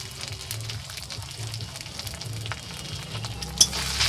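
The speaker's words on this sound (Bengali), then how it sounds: "দিয়ে এটাকে ভালো করে একটু কষতে থাকবো।" Ginger paste, turmeric and chili fry in a pan for a vegetarian dish, giving a steady soft sizzle throughout with faint stirring scrapes and one brief sharp clink near the end.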